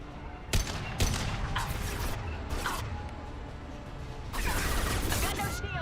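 Gunfire from the video game Mass Effect 2 during a firefight near a conveyor line, with repeated shots and bursts, loud and close, over constant combat noise and a talking voice.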